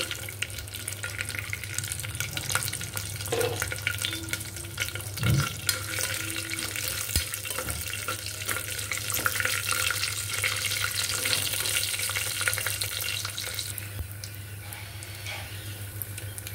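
Cashew nuts frying in a pan for coconut basmati rice, a continuous bubbling sizzle with occasional stirring scrapes and clinks, close and steady, no talking.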